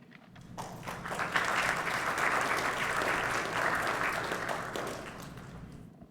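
An audience applauds to welcome Dr. Kang to the stage at the launch of a Pioneering Punjabis digital archive project. The dense, steady clapping swells within the first second, holds for several seconds, then fades.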